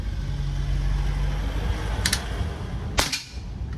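An SPMC CO2 air rifle fires two sharp, close shots with a pause between them, each a brief crack over a steady low background hum.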